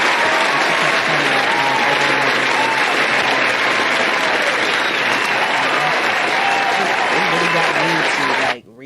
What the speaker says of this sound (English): This applause.